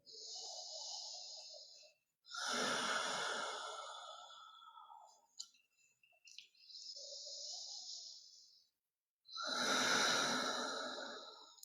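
Slow, deep breathing during a gentle chair yoga session, with long soft inhales and full airy exhales in unhurried cycles, close and quiet with nothing else around them.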